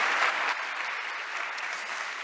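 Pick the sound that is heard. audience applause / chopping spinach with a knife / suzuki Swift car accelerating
audience applause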